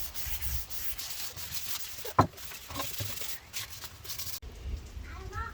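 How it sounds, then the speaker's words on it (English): A garden tool is hand sanded with 220 then 320 grit paper, a soft, irregular scratchy rubbing close by with one sharp tap partway through, while a person talks quietly over it. "we're just going to go back over this with the 220 and then the 320 grit"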